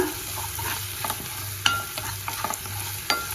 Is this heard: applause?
no